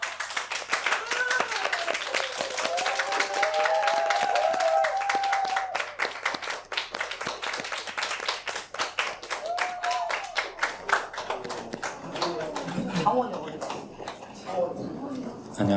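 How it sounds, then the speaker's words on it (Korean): An audience applauds to welcome a performer onto a birthday-party stage, with sustained dense clapping that carries on and gradually thins out while a host speaks over it. "큰 박수로 맞아주시기 바랍니다"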